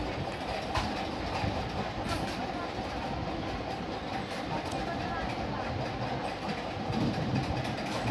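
A local commuter train runs along with steady rumbling and a continuous rattling clatter, heard from inside the carriage, with faint voices underneath.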